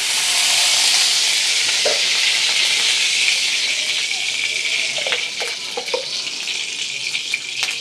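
Cashews and raisins frying in hot ghee in a kadai, a steady loud sizzle and hiss with occasional soft clinks of stirring.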